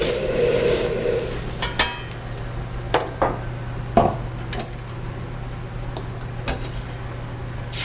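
Vegetables including black radish greens and bean sprouts are added to a pot and blanched in hot broth: a steady bubbling hiss with several sharp clinks and stirring knocks against the pot.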